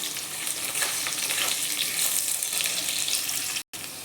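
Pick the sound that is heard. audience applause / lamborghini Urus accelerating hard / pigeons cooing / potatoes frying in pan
potatoes frying in pan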